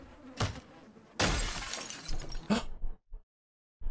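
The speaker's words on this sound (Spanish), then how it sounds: "¿por qué me apuré en darle clic a quitar cristales rotos?" Broken window glass being cleared from a frame in Project Zomboid, a few sharp shattering crashes and clinks followed by a brief tinkle, then quiet.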